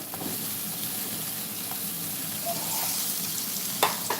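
Finely chopped potatoes frying in hot oil in a home kitchen, giving a steady, close broadband sizzle throughout with a few brief clicks near the end.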